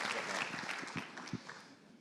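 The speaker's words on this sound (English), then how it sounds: "keep clapping" A conference audience at a contact-centre industry event claps in sustained applause that fades gradually over about two seconds.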